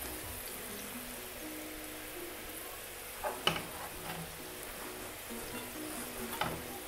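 Potato fries deep-fry in hot oil with a soft, continuous bubbling sizzle, faint and close, broken by a few brief clinks and stirring knocks midway.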